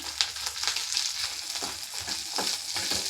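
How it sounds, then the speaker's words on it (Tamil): Oil sizzles and crackles steadily in a pan as shallots sauté, with occasional stirring scrapes, close and continuous with no voices. "நம்ம நறுக்கி வச்சுருக்கிற சின்ன வெங்காயத்தை போட்டு நல்லா வதக்கணும்"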